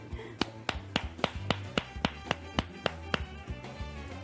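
Hand clapping at the door of a house in place of a doorbell: a steady series of about ten sharp, fairly close claps spaced roughly evenly, with faint background noise between them.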